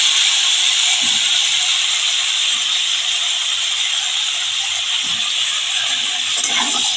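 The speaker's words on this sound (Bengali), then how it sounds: "আমি আলু পেঁপে একসাথে ভেজে নিচ্ছি" Potatoes and papaya frying together in mustard oil with salt and turmeric, making a steady, even sizzling hiss throughout, with a few faint low clinks and no talking.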